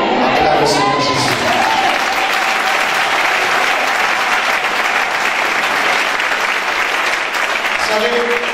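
A church congregation claps loudly to acclaim Jesus, a dense, sustained wave of applause from a large crowd with voices calling out throughout.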